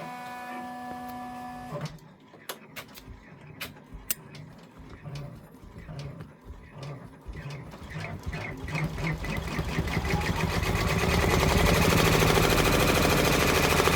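A 10-needle embroidery machine stitching a freestanding design starts up after a tone, ticking and clattering in rapid rhythmic stitches that speed into a loud, continuous mechanical chatter.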